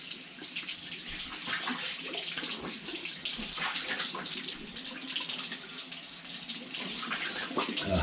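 A tap runs steadily into a sink during washing with soap, a close, even hiss of splashing water that carries on without pause and with no voices.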